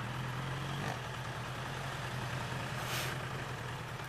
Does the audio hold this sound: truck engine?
yes